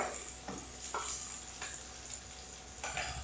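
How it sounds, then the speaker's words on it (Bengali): Tempering spices with a large chilli frying in hot oil, a steady soft sizzle with a few brief stirring scrapes, close by, no talk. "এবার এটা ফোড়ন হতে থাক"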